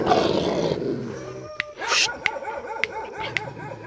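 A stray dog barks and yelps repeatedly, fairly close, after a noisy rustling start, with sharp clicking sounds scattered between the barks.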